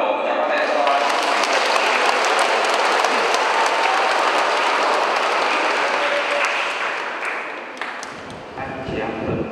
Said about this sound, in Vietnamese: Các bạn chúng ta nổ một tràng pháo tay cho anh.